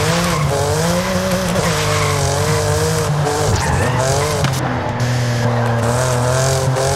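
A BMW M4 drifts in Forza Horizon 5, its engine revving hard and loud while the tires squeal continuously. Pitch rises and falls through gear changes across the whole stretch, with no talk.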